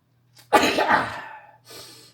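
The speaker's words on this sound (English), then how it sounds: "I got a sneeze building, sorry." A single loud sneeze bursts out close by after a short intake of breath, followed by a brief exhale.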